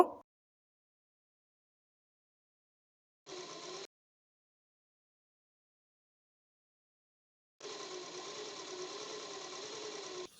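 An electric sewing machine stitches a fall onto an old cotton saree in two short bursts, a brief whir and then a longer steady run, with quiet gaps between and no voices.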